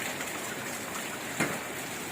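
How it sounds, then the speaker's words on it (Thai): Steady rain falls outdoors on an evening in Thailand's northeast, a continuous even hiss with one brief louder spatter near the middle. "ฝนตกดีคักพี่น้อง"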